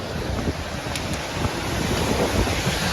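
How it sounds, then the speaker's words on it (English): Strong wind buffets the microphone in a constant, loud rumbling roar, with gusty low-end thumps and a broad hiss throughout, outdoors near the Passaic River in New Jersey. "it's windy."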